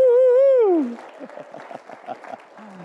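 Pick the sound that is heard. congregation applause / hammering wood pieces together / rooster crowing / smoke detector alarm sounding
congregation applause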